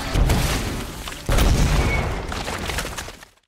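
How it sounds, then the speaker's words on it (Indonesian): A loud, heavy explosion from a film: a booming blast, then a second burst of impact about a second later and rumbling debris that fades quickly into silence. "Seketika Grant pun langsung meledak."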